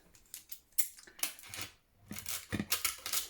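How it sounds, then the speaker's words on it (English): Several crisp metallic snips from scissors cutting tape, close by, spaced irregularly with brief rustles of tape between them. "take my scissors"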